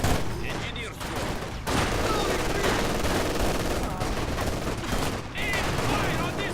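Sustained small-arms and machine-gun fire from a Company of Heroes 2 battle on the Scorched Earth mission: a dense, loud, continuous rattling barrage with brief dips just before the one-second and five-second marks.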